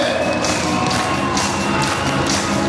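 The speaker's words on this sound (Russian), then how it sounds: "Давайте все поаплодируем." Audience at a children's concert clapping, a continuous patter of many hands with soft crowd noise and faint background tones, steady and moderately loud.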